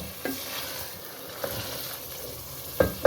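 White lobia beans fry and sizzle in masala in a pan, a steady crackle broken by a few sharp clanks and scrapes of a spoon stirring, close up and with no talking.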